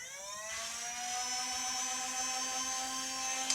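A Nerf N-Strike Elite Strife blaster's flywheels spin up, a whirring motor whine that rises steadily in pitch over about three seconds and then holds a loud, constant high hum close by.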